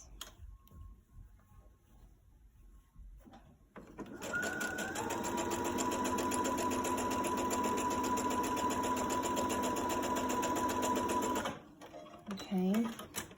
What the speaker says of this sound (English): you're going to stitch the other side all the way across